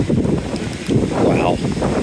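Gusty wind buffets the microphone at an outdoor car show at the Ritz-Carlton Amelia Island, a rough low rushing that swells and fades in waves close to the mic.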